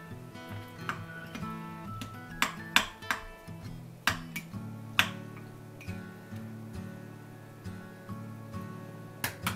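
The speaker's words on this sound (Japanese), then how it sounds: "入れて混ぜます。" Quiet, close clinks of a spoon tapping against a mug as ketchup and pepper are stirred in, irregular light taps over a faint background hum.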